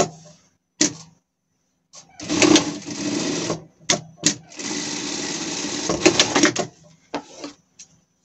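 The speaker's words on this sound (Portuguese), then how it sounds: "E vamos passar uma costura aqui." A sewing machine stitches a seam on a Paw Patrol Chase costume in loud bursts of a few seconds each, separated by clicks and short pauses, close up with no talking.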